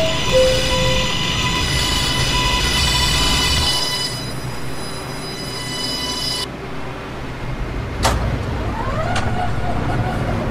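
A Roblox game train runs along its rails, a steady loud rolling rumble with tonal hums, then a sharp high squeal and a few brief clanks near the end.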